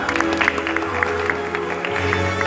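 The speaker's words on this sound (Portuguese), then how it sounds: "Vamos aplaudindo!" A circus audience applauds a balancing act on cylinders, scattered claps rising over a low steady hum, with voices in the background.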